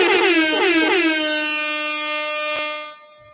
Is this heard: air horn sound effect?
yes